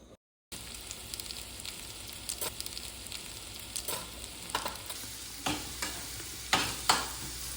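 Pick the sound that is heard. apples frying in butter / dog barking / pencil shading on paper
apples frying in butter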